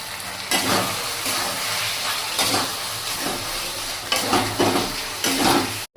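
Chicken sautéing in a pan with Kashmiri chili powder, giving a loud, continuous sizzle and hiss, with bursts of stirring and scraping that come and go in rhythm; no talking.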